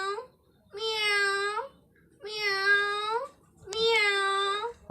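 A voice imitating a cat's meow, three drawn-out, wavering meows separated by short pauses, close and fairly loud.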